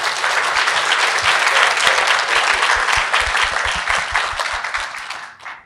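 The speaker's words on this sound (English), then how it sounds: "Give them a big applause, please." Loud, dense applause from an audience welcoming faculty panelists at a panel discussion. The clapping is full and continuous from the start and thins out toward the end, with no talking over it.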